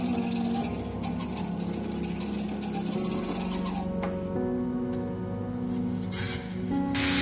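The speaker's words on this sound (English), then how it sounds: "using a steel file, I enlarged the holes so that the injector tube could pass through the hole" A steel file rasps back and forth against a metal plate, widening holes for an oil burner build; steady, close scraping strokes fill the recording, with a continuous hum running underneath.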